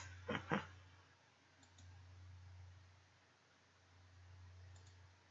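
A keyboard made sticky by spilled coffee gives two quick close clicks near the start, followed by a faint low hum of room noise for the rest.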